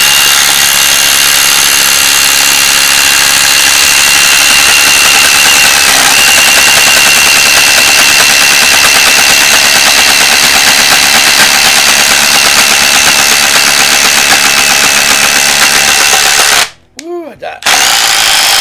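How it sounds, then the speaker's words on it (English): Loud, continuous whine of an impact driver drilling holes, sustained for a long stretch before cutting off abruptly near the end, then resuming. "let's go ahead and drill some holes with the impacts."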